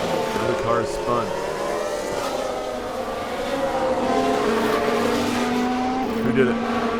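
Racing engines of F1 cars in F1 Manager 2022 at Bahrain blare continuously while a spinning car's tyres squeal, under a commentator's voice talking throughout.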